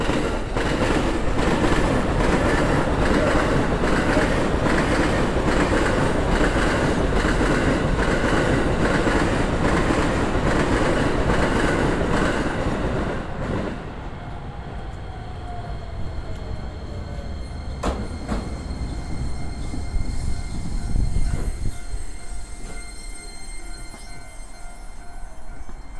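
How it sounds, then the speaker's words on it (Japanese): A Keisei commuter train pulls into platform 1 at a station, bound for Tsudanuma: a loud, close rumble of wheels and motors that drops away mid-clip, leaving quieter platform ambience with brief squeals and clanks. "まもなく1番線に津田沼方面行き上り電車が参ります。"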